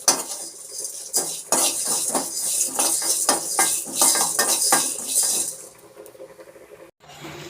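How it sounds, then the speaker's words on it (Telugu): Coriander seeds, fenugreek and cumin are stirred and fried in a pan for a fish curry, giving a loud close clatter and scraping of utensil on metal over a hissing background, fading near the end. "ధనియాలు, మెంతులు, జీలకర్ర అయితే ఫ్రై చేసుకుంటున్నానండి."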